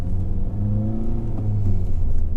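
Honda Civic Type R with a Remus exhaust set to stock mode, its engine revving in a steady, smooth hum with rising harmonics, fairly loud and close with no voices.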